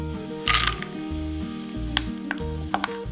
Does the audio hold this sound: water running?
no